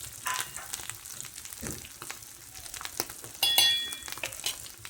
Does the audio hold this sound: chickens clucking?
no